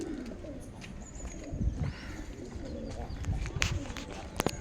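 Pigeons coo softly in a loft housing homers, high flyers and other breeds, low rolling calls repeating under a bed of chirps, wing flutters and background activity.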